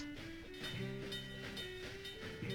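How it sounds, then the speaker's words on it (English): A train in The Legend of Zelda: Spirit Tracks rolls along with rhythmic clickety-clack and a steady tonal hum, fairly faint, accompanied by soft game music and no talking. "there's a train that's on the collision course for us"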